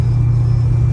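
Interior of a car driving on a highway in the rain, a steady loud low rumble of engine and road noise with a faint hiss above it and no voices.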